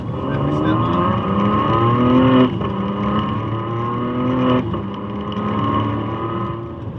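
A 2007 Ferrari 599 GTB accelerates hard in manual mode, its loud engine note climbing steadily through two quick gear changes, each marked by a brief dip before the revs rise again, heard close from inside the car.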